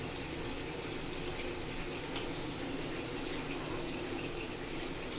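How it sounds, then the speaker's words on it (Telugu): Bitter gourd pieces, mixed with white vinegar, fry in hot oil with a steady, even sizzle and hiss that runs throughout at a moderate level, with no talking. "ఇలా కలుపుకున్న కాకరకాయని ఇలాగ ఆయిల్లో వేసి ఫ్రై చేసుకుంటామండి"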